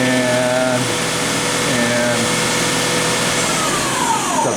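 A Microcut Challenger LT-52 two-axis CNC lathe, still cold, starts up and runs: a loud, steady mechanical whir with tones that rise and shift as the spindle comes up to speed, close by.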